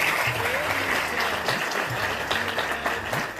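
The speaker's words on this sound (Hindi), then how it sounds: "सबसे पहले इसी काम के लिए हम भरपूर तालियों से फादर जी का शुक्रिया अदा करेंगे" An audience inside a Catholic church breaks into steady, sustained applause for a priest, the clapping filling the space throughout with a voice faintly beneath.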